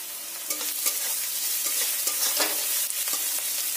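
Chopped onion and garlic frying in a pan for an egg curry, a steady bright sizzle with repeated scraping stir strokes from a spatula, close and continuous with no talking.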